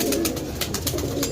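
Pigeons cooing in an enclosure with a cat lurking nearby, soft repeated low coos layered with rustling and fluttering, close and continuous over steady background noise.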